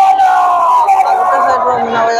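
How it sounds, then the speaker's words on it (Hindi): Crowd at the Bandbahal Dhanu Yatra fair, a loud babble of many voices close by, with one voice standing out over the noise. "भीड़ तो कितनी है पूरा"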